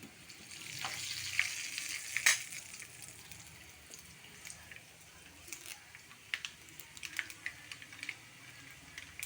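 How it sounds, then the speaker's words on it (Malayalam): Mustard seeds popping in hot oil for a paneer chilli curry, sharp irregular crackles and pops scattered over a soft steady sizzle, fairly close. "കണ്ടോ, കടുക് ഇട്ടപ്പോളേ പൊട്ടി തുടങ്ങി."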